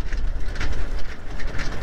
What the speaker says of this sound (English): it's making the clickety clackety